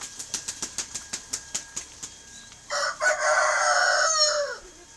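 A chicken clucks in a quick run of sharp, evenly spaced notes, then a rooster lets out a long, loud crow close by.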